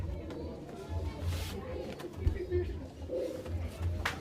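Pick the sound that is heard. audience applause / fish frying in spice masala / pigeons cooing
pigeons cooing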